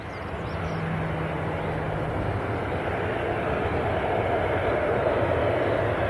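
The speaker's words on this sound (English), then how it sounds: "This Boeing 737 taxiing too fast toward the runway, resulting skidding the nose wheel." A Boeing 737 taxiing fast toward the runway, heard as a continuous broad jet engine roar that holds steady and fairly loud, slowly swelling over the whole stretch.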